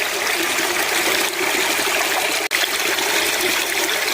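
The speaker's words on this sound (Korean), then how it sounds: "시원한 계곡 물소리" Water in a mountain valley stream flows in a loud, steady, broadband rush, close by and continuous, with no voices.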